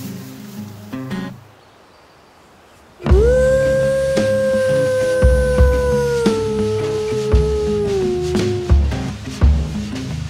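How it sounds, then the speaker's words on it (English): Wild wolves howl near a tree line in open country, one long sustained near howl joined by others, with a few yips and shorter sounds underneath. "I just heard a wolf howl."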